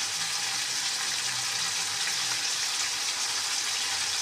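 Fish frying lightly in oil, a constant even hiss of sizzling that holds steady and close throughout, with no other sounds.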